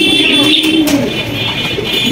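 Siraji pigeons, some of them silver-coloured, coo in a cage at a pigeon farm with low, loud, rolling calls close by that rise and fall, and a voice briefly joins them.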